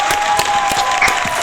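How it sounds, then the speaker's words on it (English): Participants in an online English lesson receive a round of applause, a short dense burst of clapping with a steady tone running beneath it. "a big round of applause to all our participants"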